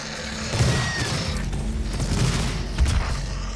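A grenade goes off in DOOM 2016, a muffled boom amid ongoing gunfire and mechanical clatter, with a second low thump near the end, moderately loud in a busy combat mix.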